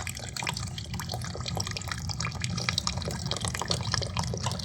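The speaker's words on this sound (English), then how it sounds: "I kind of swish this stuff around, I would hope that this water gets more milky and flushes it out" Water swishes and splashes inside a water heater tank as sediment is flushed out, close and fairly even, with scattered drips and gurgles over a low rumble.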